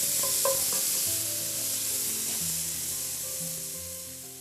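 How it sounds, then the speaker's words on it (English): Finely chopped garlic and onion sizzling in rendered bacon grease in a pan, a steady, bright frying hiss throughout, with quiet tonal music in the background and no speech. "Then you sweat the garlic and the onion."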